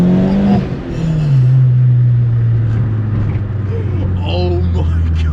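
VW Fox GTI accelerating hard and losing traction, a loud close engine note climbing and holding steady, with a brief higher tire-like squeal near the end.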